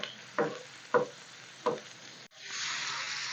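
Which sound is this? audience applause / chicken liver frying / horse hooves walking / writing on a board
chicken liver frying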